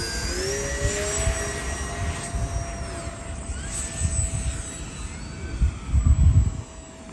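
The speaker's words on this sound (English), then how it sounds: "This is normally how we send off our plane." FMS P-47 Razorback 1500mm foam RC warbird with its electric motor and propeller whining steadily at a runway, a sustained high tone with shifting pitch and gusty low rumble, moderately loud with no talk.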